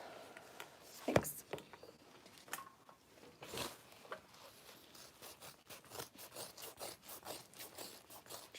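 Scissors trimming the seam allowance of sewn fabric for a tote bag, giving a run of quick, soft snipping and rubbing cuts at close range that grow more regular toward the end.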